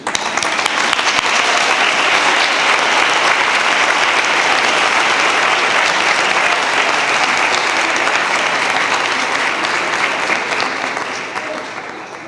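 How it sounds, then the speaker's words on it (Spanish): A large audience at an OCD association talk in Granada applauds loudly and steadily for about twelve seconds, the clapping thinning slightly as it fades at the end. "Pues ya está, un aplauso."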